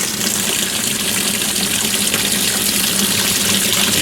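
A GE washing machine fills with cold water for a small load, a steady broadband rush of water pouring into the tub, constant and fairly loud with no talking.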